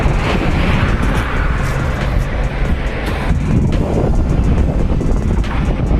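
Strong wind sweeping across the Bogibeel Bridge over the Brahmaputra, a loud, constant rushing roar that buffets the microphone close up for the whole stretch.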